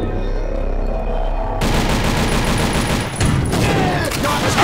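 A heavy gun fires in the shooter video game TimeShift as a sustained dense burst of loud, rapid shots with booming impacts that starts abruptly and continues to the end.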